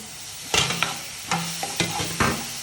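Onions fry in ghee in a pan, with a spoon stirring them in a few brief scraping strokes and clinks over a low, steady sizzle, close up and with no talk.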